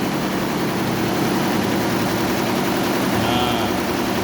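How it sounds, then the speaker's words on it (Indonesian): Computerized multi-head embroidery machine running ten of its twelve heads, a loud continuous mechanical drone and whir with a steady even texture throughout. "Mesin bordir komputer. Ini komputernya seperti itu, jalannya seperti itu."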